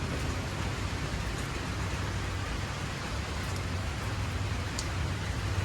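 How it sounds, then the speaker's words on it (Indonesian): Steady rain falls on a rooftop garden with potted plants and fruit trees, making an even, soft hiss across the whole stretch with no voices. "Jadi situasinya saat ini masih hujan ya."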